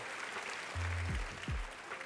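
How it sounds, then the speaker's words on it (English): Faint, distant audience applause runs steadily under the scene, with a low humming tone and a brief vocal sound rising above it midway. "Give him a round of applause."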